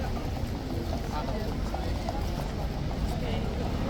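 A mounted trooper's horse clip-clops on a street, a soft, steady hoof rhythm inside a busy, continuous outdoor crowd murmur.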